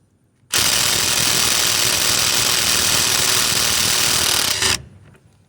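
A Craftsman C3 impact wrench fitted with a socket through an adapter runs in second speed, a sudden loud, steady buzzing hammer that holds for about four seconds and then cuts off, close and with no speech.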